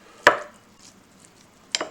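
A knife cutting food on a plate: two sharp, distinct clacks about a second and a half apart, close by, with near silence between them.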